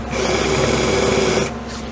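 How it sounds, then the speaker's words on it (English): A power drill spins a countersink bit into wood for an epoxy resin and wood project, a steady whining buzz of about one and a half seconds that stops abruptly, close and loud. "Next thing I'm going to do is get my countersink bit"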